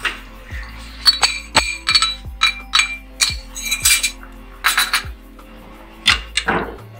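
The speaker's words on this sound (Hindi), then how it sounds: "दही डाल के इसको अच्छे से मिक्स करेंगे।" A spoon stirs yogurt into a pot of pulao, giving a series of sharp metallic clinks and taps against the pot rim, irregular and close, about a dozen strikes with short gaps between them.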